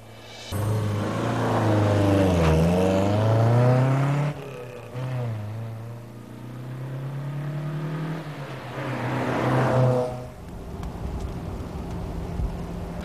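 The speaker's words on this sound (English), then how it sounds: "This car is a Lotus Elan S2 built in 1965." A 1965 Lotus Elan S2 sports car engine revs up and down through several gears, rising and falling pitch as it drives past, loud and close.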